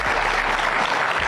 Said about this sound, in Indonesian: boleh tepuk tangan dulu buat Bapak dua ini